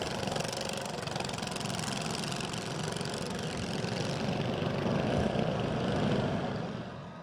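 Motorcycles of the Cabrera Motor Corps rumble past at a Nevada City Constitution Day parade, a steady loud engine drone swelling and fading slightly as they pass.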